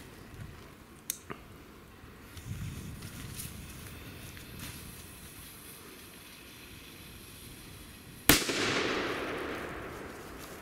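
A sharp, loud New Year's Eve firecracker bang, measured at about 118.6 decibels, near the end rings out and decays, preceded by faint pops and a quiet rumbling background.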